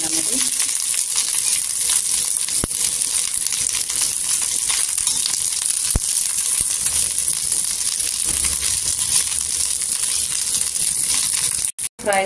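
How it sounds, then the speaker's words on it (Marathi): Green chillies fry in hot oil until blistered, giving a continuous hissing sizzle with a few sharp pops and crackles scattered through it. "इथे बघा मिरच्यांना असं डाग पडेपर्यंत आहे ना भाजून घ्यायचं तेलामध्ये"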